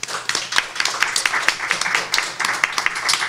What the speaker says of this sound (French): on peut applaudir pour de vrai